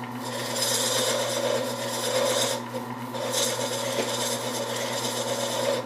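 A beading tool cuts a bead into wood on a slow-turning lathe while making bagpipes, giving a steady close scraping rasp that dips briefly mid-way before resuming, with no talking.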